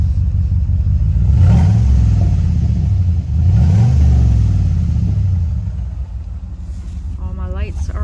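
Chevrolet Camaro engine, back from the shop after an oil pressure sensor fault, gives two deep rising revs over a steady low idle rumble, heard from close by, with a person talking partly over it toward the end.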